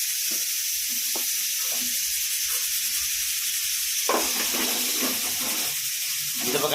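Tomato and onion sizzle in a hot pan for a brinjal and drumstick poriyal, a steady close hiss with a few soft stirring knocks and a brief louder burst of frying partway through.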